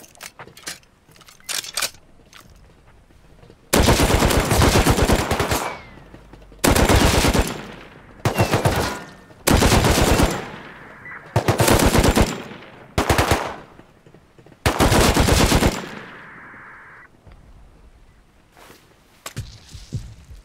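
Gunfire in the Rust zombie-server game aimed at a helicopter, long loud bursts of rapid automatic fire repeating several times, separated by short pauses with quieter clicks and rattles between volleys.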